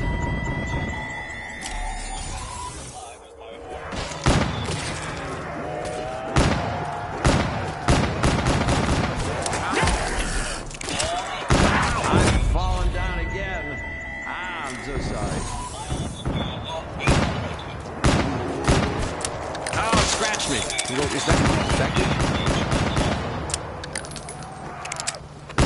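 Dense, repeated gunfire from a zombie video game, bursts of shots ringing out across the whole stretch, loud and close, mixed with other game sounds and some talking over the top.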